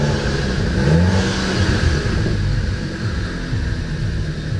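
A car fitted with a RaceChip GTS tuning module idles and revs just after starting, a close, loud engine rumble rising in pitch early on then settling into a steady running drone.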